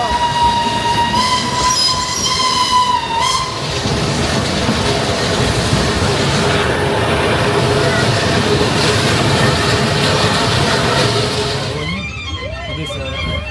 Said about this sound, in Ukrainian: поїзд, який йде високо горі, майже повністю ще забитий пасажирами